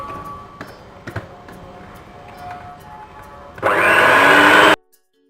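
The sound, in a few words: beating cake batter for Kentucky butter cake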